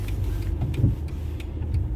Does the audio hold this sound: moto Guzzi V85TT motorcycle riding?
yes